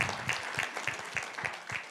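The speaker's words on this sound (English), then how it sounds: "Can we just give Nelisa a hand of applause, please?" An audience at a business meeting applauds, a soft, steady patter of clapping heard from some distance and sustained throughout.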